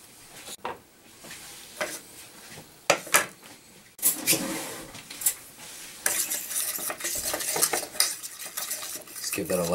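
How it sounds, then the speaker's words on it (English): Dill and black pepper seasoning being lightly mixed into largemouth bass: close, irregular clinks and scrapes of a utensil against a dish, sparse at first, then busier and denser near the end. "Give that a light mixing so it's kind of evenly distributed through there."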